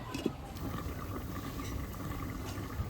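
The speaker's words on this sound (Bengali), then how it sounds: "ঝোলটা ফুটে গেছে, এখন এই ভুট্টাগুলো দিয়ে দিচ্ছি।" Vegetarian corn curry broth boiling in a covered pot, giving a steady bubbling simmer with soft liquid gurgles throughout, close and unbroken, with no talking.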